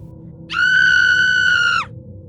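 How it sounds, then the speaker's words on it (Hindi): A loud, sustained high-pitched scream rings out as a sound effect in a Hindi horror story set in a graveyard, rising abruptly, holding steady for over a second, then cutting off over a low background rumble. "अचानक एक जोरदार चीख गूंज उठी"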